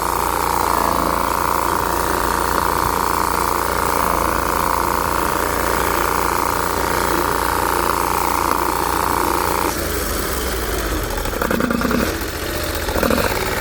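Bolens 1600H garden tractor engine running steadily in cruise control, close and loud, shifting slightly in tone partway through as it slows.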